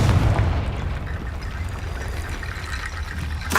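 Confringo fire spell blasting in Hogwarts Legacy, a sustained rumbling, crackling explosion roar with heavy low end that rolls on for several seconds, fading slightly before a sharp burst at the close.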